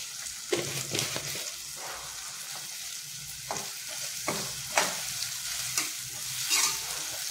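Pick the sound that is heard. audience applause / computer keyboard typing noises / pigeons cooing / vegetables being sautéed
vegetables being sautéed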